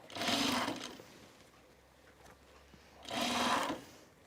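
A sewing machine stitches a bag in two short, close bursts of rapid whirring, with a quiet pause between them.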